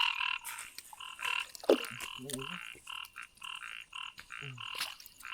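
Frogs croak loudly and close by during a night of frog catching in heavy rain, with repeated bursts of short, pulsing calls broken by brief pauses and no speech over them.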